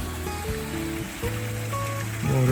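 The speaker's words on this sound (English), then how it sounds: "Waterfall going." A small waterfall in Petřín park, Prague, runs with a steady close trickle and splash of water, overlaid by tonal background sounds.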